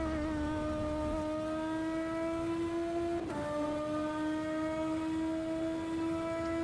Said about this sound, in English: the screaming engines of these machines is pretty much what we hear right here.